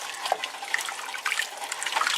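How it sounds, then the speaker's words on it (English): Soaked potatoes and their soaking water pour into a soup pot, a close, continuous splashing and trickling with small bright plinks. "I'm going to put my potatoes and the water that they were soaking in"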